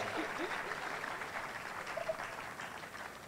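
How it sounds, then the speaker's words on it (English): A conference audience applauds in a hall, giving a sustained, fairly faint round of clapping with a few isolated vocal sounds. "Please, another round of applause for Olushola."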